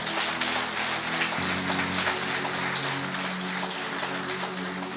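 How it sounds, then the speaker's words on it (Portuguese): A congregation at a church service claps hard in dense, sustained applause, an even wash of many hands with a low musical drone held underneath. "Aplauda bem forte a Ele."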